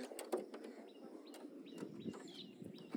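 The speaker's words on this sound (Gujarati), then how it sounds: "અને કબૂતર બગા છે જંગલી એમ" Wild pigeons call faintly in an outdoor setting, with soft coos and scattered chirps over a light, quiet background.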